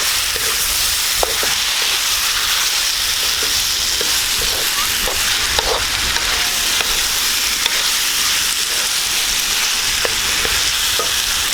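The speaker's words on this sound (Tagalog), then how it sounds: "Maglalagay po tayo ng konting oyster sauce. Hahaluin lang po natin." Eggplant adobo with tofu being stirred in a hot pan after oyster sauce is added, a steady loud sizzle with occasional light scrapes of the utensil, up close and with no speech.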